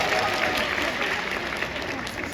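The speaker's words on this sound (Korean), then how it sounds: "다시 한번 뜨거운 박수 부탁드리겠습니다." Audience applause at a Korean speech event in Incheon, a dense, steady wash of many hands clapping at close range that holds at an even level throughout, with no talk over it.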